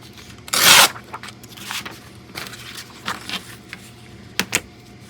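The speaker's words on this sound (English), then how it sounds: "We'll try to tear straight, sort of, anyway." Paper torn by hand for a large lunch bag accordion journal, one loud rip near the start followed by several short, softer tearing and rustling bursts, close up and without speech.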